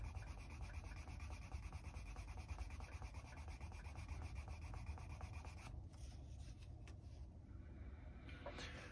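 Steady back-and-forth rubbing of 600 grit sandpaper along a leather edge, a continuous close, soft scraping rasp that thins out near the end.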